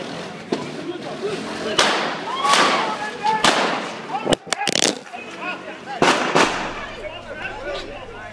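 Several sharp gunshots ring out during a robbery, caught on an amateur phone recording: isolated loud cracks spaced a second or two apart, with a quick cluster near the middle, over background street noise and voices.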